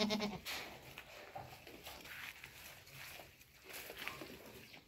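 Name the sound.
goats bleating on a farm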